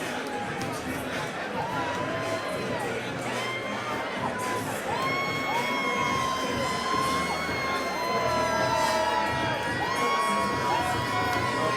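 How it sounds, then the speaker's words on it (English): A large crowd of fans at a white collar boxing match in London keeps up steady cheering, shouting and whistling that sounds close and dense, with voices and chatter mixed through it the whole time. "celebrating with their rather large crowd of fans who have sat behind us, having a whale of a time"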